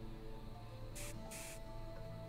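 Two quick hissing sprays, one short and one longer, sound close and clear over a quiet background hum in the video game Dinkum, as memory tincture is sprayed into the eyes.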